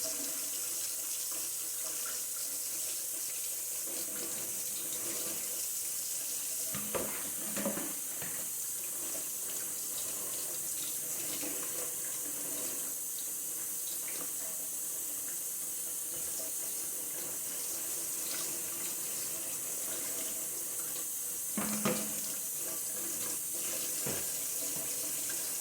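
Tap water runs steadily from a faucet into a sink while sea moss is rinsed and washed, a constant close splashing hiss with a few brief louder sloshes and clinks, no talking.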